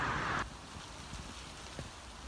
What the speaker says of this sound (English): Whoa, it's raining a lot.